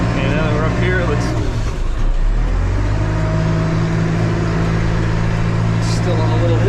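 A backhoe loader's engine labors steadily as it climbs a curvy mountain road, a loud, continuous low drone that deepens and settles into a heavier, constant pitch partway through, close and unbroken.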